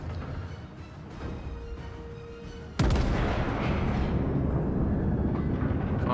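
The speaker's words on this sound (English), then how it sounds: "Firing the back gun there." A rear main gun of an American battleship fires in World of Warships: one sudden heavy boom, then a long, loud rumbling roar that fills the rest of the clip.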